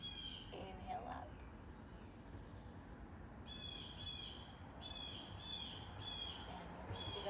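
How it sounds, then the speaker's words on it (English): Birds call outdoors in squawking, chirping bursts that come and go over a low background rumble, fairly faint and distant, with a voice speaking softly beneath them. "I'm always joined by all my crazy bird friends out here. They're always so loud."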